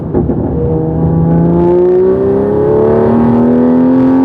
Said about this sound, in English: we'll just give it some light acceleration here and go to 4th gear